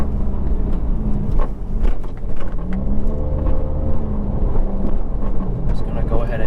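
Subaru WRX 2019 with a Remark Stealth Edition axleback exhaust, accelerating hard through upshifts, with a loud, steady engine and exhaust drone heard from close by that rises and dips briefly at each shift.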